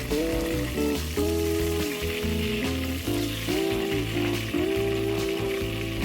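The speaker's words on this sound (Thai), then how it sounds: "เหลืองได้ที่แล้วเราก็กลับอีกด้านหนึ่งทอดได้เลยค่ะ" Pieces of fermented fish (pla som) fry in hot oil in a pan, giving a steady broadband sizzle throughout, with tonal background music layered over the frying.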